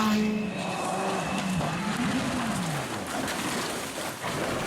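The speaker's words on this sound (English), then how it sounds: "A huge crash for Devine." A rally car at speed on a gravel stage roars steadily, its engine pitch rising and falling, in a big crash during Rally Liepāja 2020.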